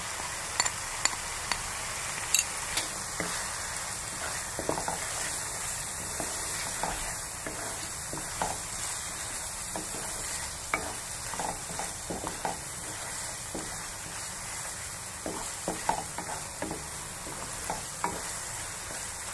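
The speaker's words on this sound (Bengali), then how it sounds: "এইসব মশলা দিয়ে ভালো করে ফ্রাই করে নিতে হবে" Kashmiri chili powder and turmeric frying in oil in a pan for a yogurt katla fish curry, a steady close sizzle running throughout, broken by frequent clicks and scrapes of a spatula stirring.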